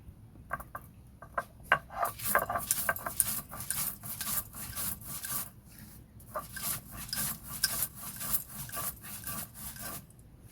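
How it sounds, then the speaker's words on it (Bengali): Roasted spices for a Bengali fish and taro curry being ground, a quiet irregular run of rubbing, scraping strokes close by, with no talking. "ভেজে রাখা মশলাগুলো আমি এখন গুঁড়ো করে নেবো"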